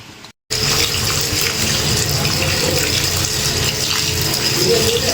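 Tap water runs over raw chicken being washed, a loud close gush that starts after a brief silence and then pours steadily and evenly to the end, with no speech.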